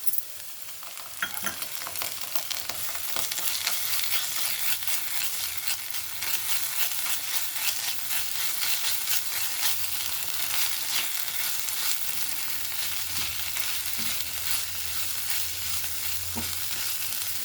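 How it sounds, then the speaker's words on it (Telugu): Ginger garlic paste frying in hot oil for a Telugu pesarattu curry, a steady close sizzle with occasional spoon stirring and scraping, no voices. "ఒక స్పూన్ అల్లం వెల్లుల్లి పేస్ట్ వేద్దామండి."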